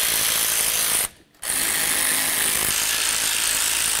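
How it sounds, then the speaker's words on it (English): A ratchet wrench snugs the brake caliper slider bolts on a 2007-2017 Jeep Compass during a front pad and rotor job. It makes a steady, close rasping clatter that breaks off briefly and then carries on. "Start them both in, snug them up, and torque them to 32 foot-pounds."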